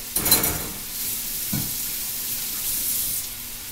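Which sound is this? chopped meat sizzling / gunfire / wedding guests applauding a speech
chopped meat sizzling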